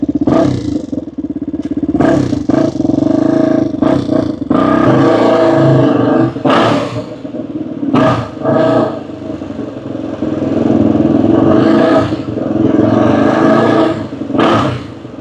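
A 2000 Honda XR250 off-road motorcycle with A-Loop off-road kit and built engine roars through a test ride, its single-cylinder engine revving up and easing off repeatedly, loud and close throughout.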